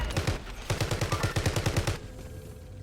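Rapid automatic gunfire in Call of Duty Warzone, two tight bursts of evenly spaced shots, close and loud, ending abruptly into quiet ambience.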